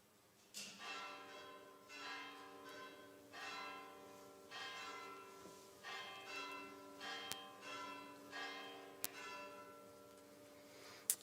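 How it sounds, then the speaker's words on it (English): Church peace bells calling a congregation to worship, struck in a slow repeated sequence of ringing tones about once a second, each decaying into the next, moderately distant with no talk. "Let us be called to worship now by the ringing of our peace bells."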